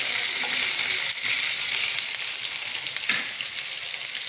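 Food frying in hot oil gives a dense, continuous loud sizzle with a few small stirring knocks, heard up close with no voices.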